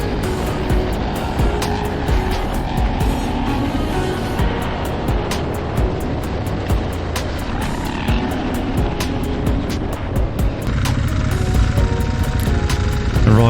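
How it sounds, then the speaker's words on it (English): An adventure motorbike on a bridle track roars continuously under hard acceleration, its engine loud and close for the whole stretch with a dense, rough drone and no speech over it. "he puts the power down and accelerates out of trouble."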